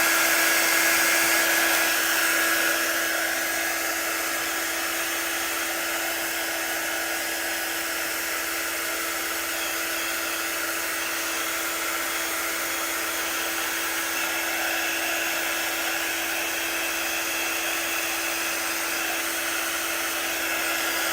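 A quick-dry blower tool runs steadily to dry chalk paint brushed onto MDF, a continuous close whooshing hiss with a faint electric whine, slightly louder at the start and then even throughout, with no talking.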